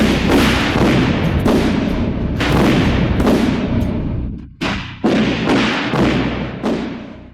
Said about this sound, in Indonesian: Sungguh kembang api yang indah.